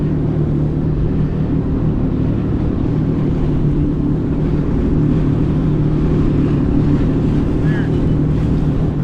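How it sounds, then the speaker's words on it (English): Small boat passing on rough ocean, a loud continuous engine drone and wash of water and wind noise running steadily throughout, with no talk. "here come some people in a tiny, tiny little boat"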